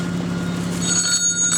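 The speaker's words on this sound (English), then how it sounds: "Oh, what's going on here? My phone is ringing." A phone rings with two short high electronic trills near the end, over a steady background hum.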